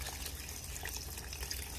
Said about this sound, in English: I've transferred it here at the slow cooker, and I'm putting 10 cups of water.